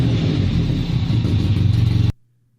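Razor 800 off-road vehicle engine revving hard, a loud rumbling throttle with pulsing surges that cuts off abruptly near the end, leaving near silence.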